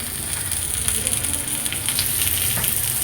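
Ragi adai sizzles and crackles steadily in an oiled pan, a close, continuous frying hiss with small pops throughout.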